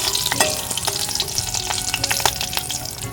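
Mustard seeds, cumin, green chilli and curry leaves crackle and sizzle in hot oil for a quick Bengali tempering, with sharp popping bursts over a steady fry and a spoon stirring close by.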